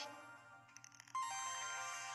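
A mobile phone ringtone plays faintly at first, then a brighter, louder melodic tone chimes in midway and continues to the end, set against a quiet indoor background.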